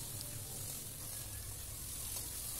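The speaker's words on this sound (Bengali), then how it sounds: "আলু বেগুনটাও আমি মশলার সঙ্গে একটু নেড়ে নিচ্ছি।" Potatoes and aubergine frying in spice paste while being stirred in a pan over a low gas flame, a steady close sizzle with faint scraping, no voices.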